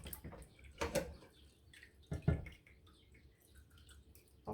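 Hands rinsed under a running kitchen tap before cooking: quiet, intermittent splashes and drips with a few louder spatters, no voices.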